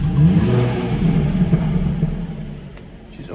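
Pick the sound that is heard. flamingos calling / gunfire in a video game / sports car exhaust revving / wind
sports car exhaust revving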